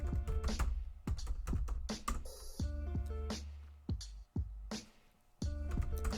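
Keys clatter on a computer keyboard as a bzip2 command and a file name are entered in a Linux CentOS 8 terminal, with quick bursts of close, crisp taps separated by short pauses.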